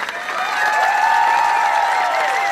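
Sustained applause and cheering from an outdoor crowd at a live music rally in Melbourne, a steady dense roar holding at full level throughout without a break.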